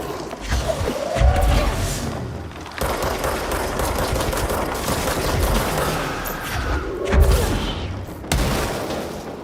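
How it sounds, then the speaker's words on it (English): Gas explodes in the video game Control, a pair of loud bursts followed by crackling, fusillade-like debris and rumble, the booms spaced several seconds apart. "Oh, it's exploding gas."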